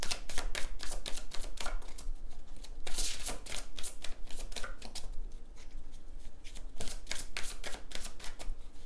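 Tarot cards being shuffled and drawn, a rapid run of crisp snapping flutters and riffles repeating in bursts across about nine seconds, close and fairly quiet, with no talk.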